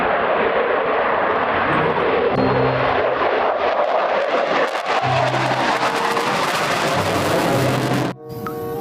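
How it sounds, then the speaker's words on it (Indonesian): A toy fighter jet produces a continuous, loud electronic jet-engine roar with a rising whine for several seconds and cuts off abruptly near the end, heard close up without talk. "Wadidaw, jet tempur."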